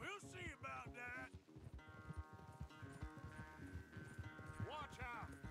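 Horse hooves clip-clop at a gallop during a race in Red Dead Redemption 2, sitting under game music and someone speaking over it.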